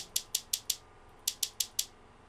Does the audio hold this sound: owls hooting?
no